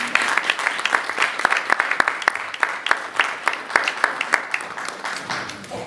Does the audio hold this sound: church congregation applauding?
yes